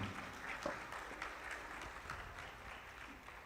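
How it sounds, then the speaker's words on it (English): Faint applause at a conference on energy transition as a speaker takes the floor, a soft, steady patter of hand claps heard from a distance with no talk over it. "A warm round of applause, please."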